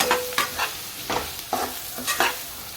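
Okra and potato curry being stirred in a frying pan: a soft steady sizzle broken by about half a dozen scraping spoon strokes at an uneven rhythm, close and fairly quiet.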